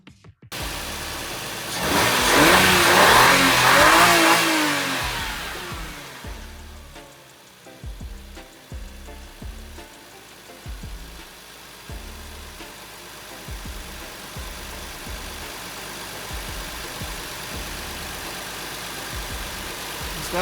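A Toyota JZX90 engine cranks and catches, a loud rising burst of revs settling into a steady, slightly uneven idle that continues alone for most of the stretch.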